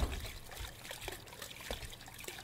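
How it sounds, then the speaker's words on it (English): Water trickles steadily from a broken faucet in The Crooked Man video game, a faint, continuous watery dribble with light drips, alone without talk. "Yikes, the water. Is the faucet busted?"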